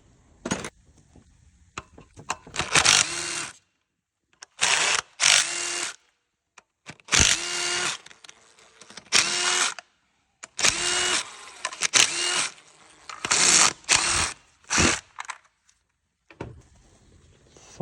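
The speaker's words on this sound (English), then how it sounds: "Now unscrewing the injector." A power tool unscrews an injector on a BMW 335d engine, sounding in repeated short whirring bursts of a second or so, separated by brief pauses, loud and close with no talk.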